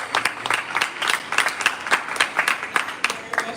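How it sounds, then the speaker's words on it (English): A crowd applauds steadily, many hands clapping at a moderate volume without pause. "Another round of applause for our speaker, please."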